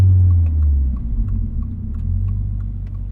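A 2025 Toyota GR86 Hakone Edition on the move gives a steady, loud low exhaust drone, with faint soft burbles and ticks scattered through it and no voices.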